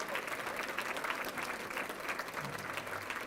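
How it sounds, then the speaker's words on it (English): Audience clapping at a high school athletic hall of fame induction dinner, steady and moderately loud across the whole stretch, with faint crowd murmur beneath. "Give yourselves a big round of applause for being here."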